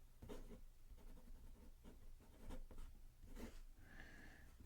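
A Montblanc 24 fountain pen nib scratches across paper in short, irregular strokes, close and quiet, with brief pauses between letters and no talking.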